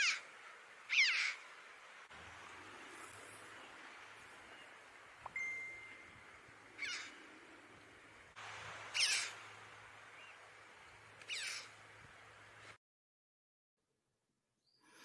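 Several chough calls along the Donegal coast at Slieve League, sharp, ringing cries spaced a few seconds apart over faint background hiss, with a low hum in between.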